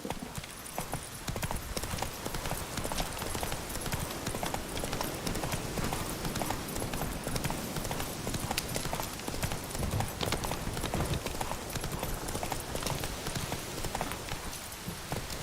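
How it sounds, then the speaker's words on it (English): Roach, the horse in The Witcher 3, gallops with a rapid, unbroken run of hoof clip-clops that stays close and even throughout, with a brief whinny possible in the mix. "Run, Roach."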